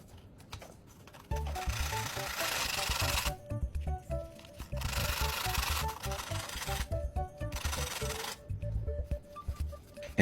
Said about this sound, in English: I'll grind the battery core to shape it into a fine tip